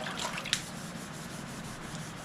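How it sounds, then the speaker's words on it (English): Quiet, steady wet sanding over a smooth headlight lens, a continuous soft hiss with a faint tap near the start. "And as you sand it, it's going to become smooth again."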